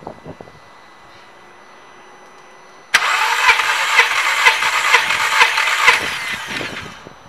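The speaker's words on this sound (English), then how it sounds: "crank the engine over about 4 to 5 times to get an accurate read" A VW Polo 9N3 GTI with the 1.8 20VT engine turns over on the starter during a compression test. After a quiet stretch, loud, rhythmic cranking pulses run for about three seconds and then stop.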